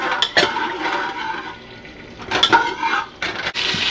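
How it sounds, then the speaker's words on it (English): Whole spices and cumin seeds being stirred in a pot, with bursts of scraping and clinking from the spoon against the metal between quieter stretches, close and moderately loud. "And then we will stir it for a few minutes."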